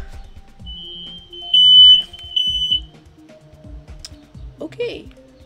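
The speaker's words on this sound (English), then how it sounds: "That was our smoke alarm." A household smoke alarm gives a few sharp, loud high beeps that stand out over quieter game sounds and clicking.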